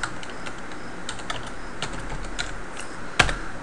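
Computer keyboard keys tapped in short irregular bursts while numeric values are entered in Blender, close and clear over a quiet room, with one sharper louder keystroke near the end.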